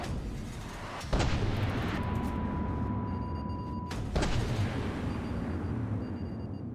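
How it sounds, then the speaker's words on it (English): Torpedo impacts and explosions in the naval combat video game From the Depths, two deep booming blasts a few seconds apart over a constant heavy rumble of battle noise, with no voices. "Why am I hearing so many torpedoes coming my way?"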